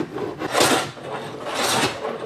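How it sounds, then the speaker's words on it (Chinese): A hand saw cuts into a wooden pillow block on a traditionally built wooden house, giving two rasping strokes in a slow push-pull rhythm, close and fairly loud with no talk. "现在用锯子"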